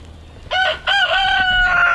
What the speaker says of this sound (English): let's listen to the chicken